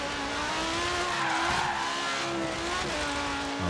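A Lamborghini Sesto Elemento spins out on gravel in Forza Horizon 3, its engine droning loudly as the tires scrabble and skid for several seconds, no voices.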